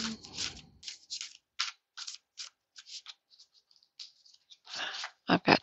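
Close, crisp riffles and flicks of a deck of reading cards being shuffled come in quick bursts separated by short pauses, with a louder flurry near the end.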